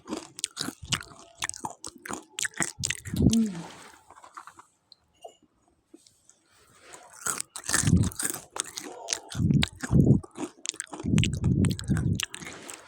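Crispy French fries bitten and chewed up close, a burst of crunching followed by a brief quiet stretch, then more rounds of loud crunchy chewing.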